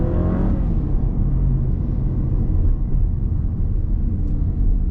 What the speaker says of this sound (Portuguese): E por que a gente ouve esse motor ligando, então, se esse carro é híbrido?